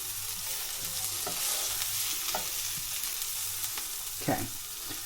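Onions for spiced beans on toast fry and catch in a pan, a close, even sizzle broken by a few scraping stirs, with no talking.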